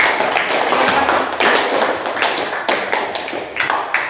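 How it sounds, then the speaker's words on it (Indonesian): A classroom of students applauds after the first group's presentation, a steady wash of close clapping with sharp taps and some thumps running throughout. "beri tepuk tangan untuk kelompok yang pertama"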